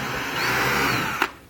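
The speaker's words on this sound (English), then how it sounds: "So the 1/4 is the best one to use, because when you drill that through" A power drill with a 1/4 inch bit bores a hole through a rotomolded plastic water tank lid, a steady whirring drone that ends with a brief sharp burst as the bit breaks through.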